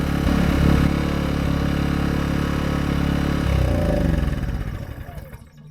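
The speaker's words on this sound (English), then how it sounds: "So it runs the Sawzall, no problem." DeWalt Sawzall reciprocating saw powered by an AIVolt 1600-watt gas portable inverter generator, a steady loud buzzing drone held for several seconds, then winding down and fading out near the end.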